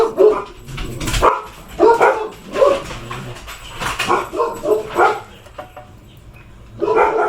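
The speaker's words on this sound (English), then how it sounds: "And the dogs are gonna bark." Dogs bark repeatedly and loudly nearby, a mix of sharp barks and yips in irregular bursts, with a short lull before another bark.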